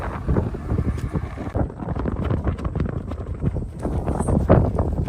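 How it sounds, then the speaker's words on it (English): Gusty wind blows across a Nebraska farm during soybean harvest, a loud continuous rumbling roar that buffets the microphone with uneven surges. "It's breezy in Nebraska."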